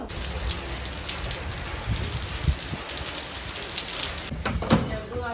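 Rain falling steadily on surfaces, a continuous patter with a few louder drips and knocks close by, and a brief voice near the end.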